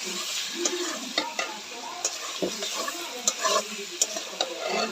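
Chicken meat stir-fried in a pan with potato, a spatula scraping and knocking against the metal in a steady rhythm over a continuous close sizzle.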